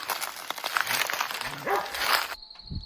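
Hunting dogs barking and yelping up close after catching a big boar near a river, several excited barks and whimpers over rustling movement.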